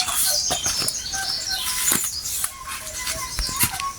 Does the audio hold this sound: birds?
yes